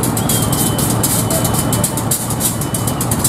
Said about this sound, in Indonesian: kereta api Sri Tanjung sudah melintas langsung stasiun Bayoman bersilang dengan kereta api Wijaya Kusuma